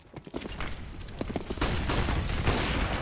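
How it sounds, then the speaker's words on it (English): Gunfire during a competitive Counter-Strike match on the Vertigo map, rapid bursts of close shots that build into sustained, dense firing over steady game noise. "the A-ramp take comes through. Cooper with a great shot onto Cello to even things up"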